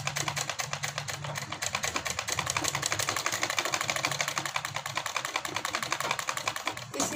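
A sewing machine runs steadily for several seconds, putting a second line of stitching just below the first along a semi-Patiala salwar hem (mohri), with a fast, even mechanical whir and no talk.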